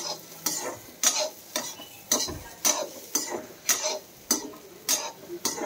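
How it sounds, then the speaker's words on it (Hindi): Peas roast in mustard oil with salt while a utensil stirs and scrapes the pan in a steady rhythm of about ten strokes, close and moderately loud over a faint sizzle. "और इसमें सिर्फ नमक है और सरसों का तेल है, उसमें ही भून रहे हैं।"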